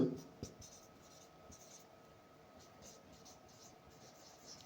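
A pen scratches across paper at close range while a topology proof is written out, giving faint, steady scribbling strokes over a low background hiss, with a brief voice at the start.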